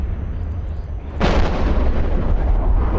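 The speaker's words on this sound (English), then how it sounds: "these explosion sounds, Jesus Christ. Yeah, they're fucking loud" A loud, close video game explosion bursts suddenly after a steady low rumble, then a wide roaring blast and crackle rolls on and fades slowly.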